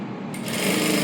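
A sewing machine runs steadily while stitching a child's princess-cut silk blouse, a close, continuous mechanical whir that starts slightly softer and settles into an even, loud drone.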